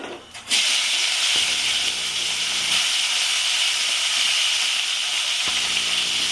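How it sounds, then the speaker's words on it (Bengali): Crabs hit hot oil with panch phoron for a Bengali crab curry. A loud, steady hiss of sizzling and steam starts after half a second and carries on evenly to the end, with no talk. "আমার এই পাঁচ ফোড়নটা ফুটে গেলে আমি এতে কাঁকড়াগুলো দিয়ে দেবো"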